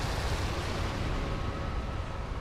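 A loud, dense explosion in a video game, a broad rumbling roar that fills the whole stretch with a steady, heavy low-end wash and no clear tail.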